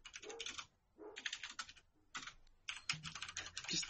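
Rapid clattering keystrokes on a computer keyboard come in bursts with short pauses between them, close and clear in a quiet room.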